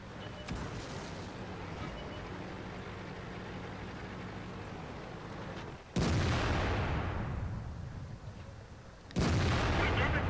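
Artillery fires in the tank battle game World of Tanks: two sharp, heavy booms cut through a low, steady background rumble, spaced a few seconds apart.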